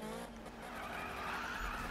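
Tires of a VW Golf GTI skid through a drift test in the 2015 Need for Speed racing game, a continuous loud screech layered over steady engine drone for the whole stretch, with no talk.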